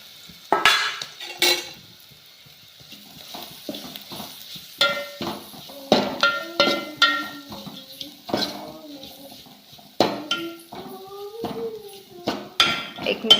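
Crushed peanuts, green chili and garlic sautéing in a pan with turmeric, with frequent sharp metal spoon scrapes and clanks against the pan over a soft frying hiss, close up. Brief voiced sounds appear between the stirring strokes.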